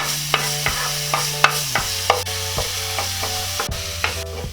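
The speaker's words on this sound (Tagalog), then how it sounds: "Ngayon ay igisa na po natin yung ating bawang" Garlic sautéing in oil in a pan, a steady close sizzle with regular scraping and tapping of a spatula against the pan, plus a low steady hum running underneath.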